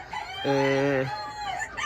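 Mottled mini Cochin chickens, an ornamental bantam breed with imported bloodline, give one clear crow of about half a second over a murmur of background sound, close and moderately loud.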